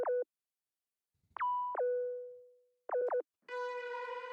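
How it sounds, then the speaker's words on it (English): Altered sub bass synth preset playing short tonal notes with clean harmonic stacks, a few quick stabs and one long sustained tone that fades, ending in a brighter buzzy layered chord; no voices. "because this was a sub preset that I altered to sound like this."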